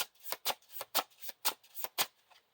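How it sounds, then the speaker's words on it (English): A deck of playing cards from a tabletop card game is riffle-shuffled close up, giving about nine sharp papery bursts in quick rhythm, quiet and alone. "Shuffle the encounter discard pile into the encounter deck."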